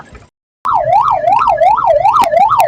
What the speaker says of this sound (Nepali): एम्बुलेन्स आएको छ पछाडि कसै छोड्दिन होला बाटो